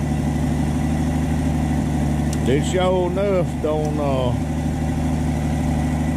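A six-cylinder car engine fitted with an aluminum race-style radiator with a 2-inch core idles in a steady, droning hum throughout, while someone talks over it.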